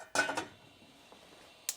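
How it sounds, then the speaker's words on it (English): Three turkey wing bones are dropped back into a cooking pot for another boil: a couple of quick clinks and clatters of metal at the start, then quiet, then one more brief clink near the end. "So now we take the 3 bones back in the pot for the next boil."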